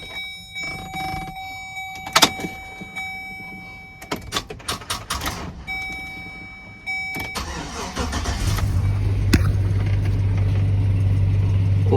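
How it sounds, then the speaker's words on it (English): A truck engine cranks on a jump box after dashboard chimes and clicks, then catches and settles into a steady, low idle. "plugged up jump box, and I'm gonna try to start this truck up."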